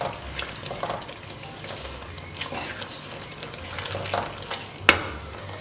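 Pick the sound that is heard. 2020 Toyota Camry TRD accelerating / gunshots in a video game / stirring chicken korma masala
stirring chicken korma masala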